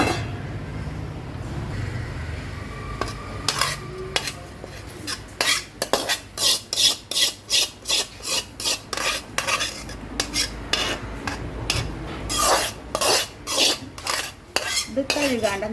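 Freshly grated coconut is tipped and scraped into a metal vessel with a run of sharp, rhythmic knocks and scrapes against the rim. The sounds come close and loud, fast in the middle and looser toward the end.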